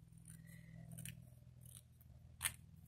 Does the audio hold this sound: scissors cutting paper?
yes